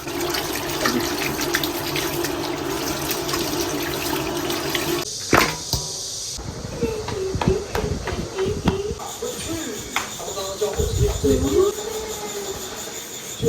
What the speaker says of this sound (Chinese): 把鸡好好的洗一下